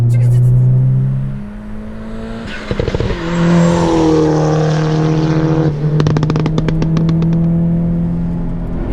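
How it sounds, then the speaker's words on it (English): A turbocharged 2-liter Hyundai Genesis running on E85 drones loudly while under way, rising and falling in pitch with gear changes and bursts of popping near the middle and later in the clip. "It's got the good turbo sound, right?"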